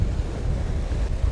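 Ocean waves breaking against the rocks at Cape Banks, Sydney, a rumbling low surge with wind buffeting close to the microphone, steady and fairly loud, with no talking.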